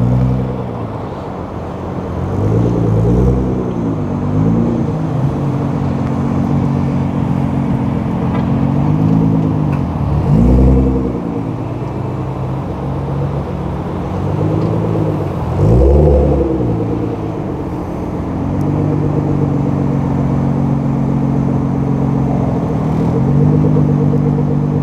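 A Nissan GT-R R35 with a wrap and classic BBS wheels drives past at Daikoku PA in Japan, its engine droning and revving loudly in repeated surges, with a rumbling exhaust that stays close throughout.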